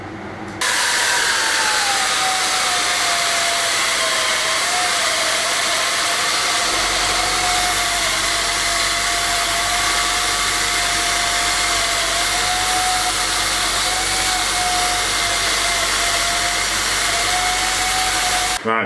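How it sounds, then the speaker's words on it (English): Power sander working over reclaimed wood, a continuous whining motor hum that runs steadily for most of the stretch and cuts off abruptly at the end, with no talking. "carry on sanding."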